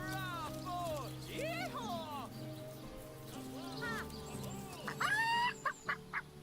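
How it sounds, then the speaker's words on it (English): Farmyard fowl in Divinity: Original Sin, clucking and honking in repeated sliding calls, some close and clear, with a burst of sharper squawks near the end, under a faint ambient background. "There's a couple of chickens here."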